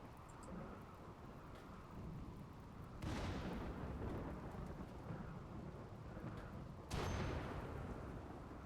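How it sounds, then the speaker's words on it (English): Rolling thunder from weather in the video game RimWorld, a continuous rumbling storm with rain-like hiss and two sharper crashing strikes, fairly distant and low in level. "The explosion sounds are lightning. That's just natural weather."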